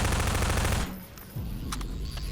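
Rapid automatic gunfire from pillboxes in Half-Life 2 rattles hard at first, then cuts off, leaving a quieter spell with a few scattered distant shots and thuds.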